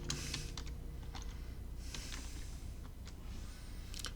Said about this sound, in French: je vais taper au hasard Julien Dupont